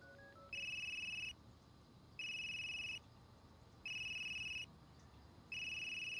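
A phone ringtone repeats in the horror game Unheard after a call is placed, four steady electronic rings of about a second each with short gaps, sounding alone over a low background hum.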